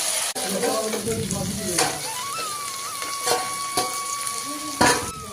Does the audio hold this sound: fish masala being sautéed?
yes